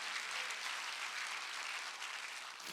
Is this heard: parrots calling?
no